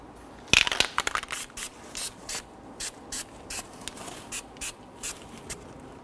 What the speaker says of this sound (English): spray down the hub face with some anti-seize